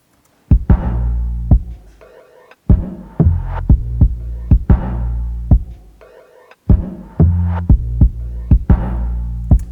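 A deep, repeating bass line locks in with a punchy percussion beat, sharp hits landing in a steady groove with brief pauses between phrases.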